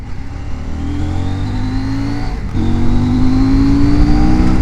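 A CF Moto-built 790 motorcycle engine, the type made for KTM, revs steadily up close, its tone climbing in pitch and stepping louder halfway through as the throttle opens.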